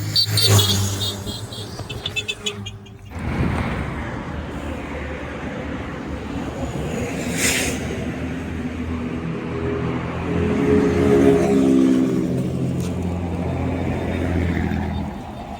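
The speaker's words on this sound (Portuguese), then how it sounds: "o trânsito do lado de lá já melhorou" Highway traffic at kilometre 28 near Ecovias makes a continuous road roar, with a louder vehicle passing close at the start and then engine drone building and fading.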